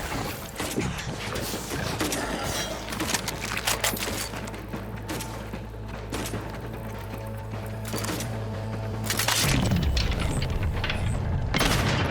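Combat in the video game Outer Worlds 2, with repeated gunshots and booming impacts layered over a steady game soundtrack, continuing dense and loud throughout with a heavier burst near the end.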